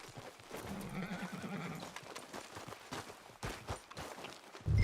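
A horse walks in the video game Red Dead Redemption 2, its hooves clip-clopping unevenly at close range with a whinny, amid light ambient game sound and no speech.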